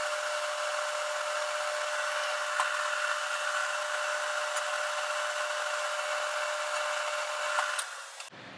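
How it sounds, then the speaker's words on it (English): A milling machine drills with a tiny bit while working on special bolts for a Kawasaki Z1-R project, giving a steady, even whine that runs at constant loudness and then cuts off near the end. "not running this mill fast enough for this tiny drill bit"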